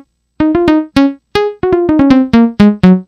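A Korg Nautilus synthesizer combi patch played dry, without its insert effects routed, gives a run of loud, sharp plucked notes and short chords in an uneven rhythm, each note decaying quickly into silence.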